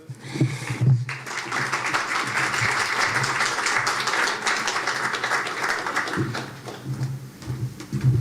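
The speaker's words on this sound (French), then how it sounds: "Donc, tu dois être content, Steph, tu as eu des applaudissements." Audience applause at a festival programme announcement, a sustained burst of clapping that swells after a brief spoken moment at the start and tapers with faint voices near the end.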